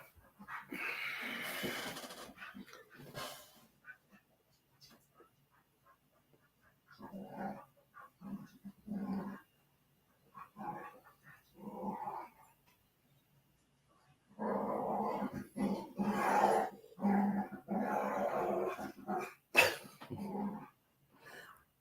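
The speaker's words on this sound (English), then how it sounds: "These dogs sound like one's trying to play and the other one's trying to ignore her." Dogs growl and give short rough barks in scattered bursts, with pauses between, some low rumbling grumbles mixed in, close by and moderately loud.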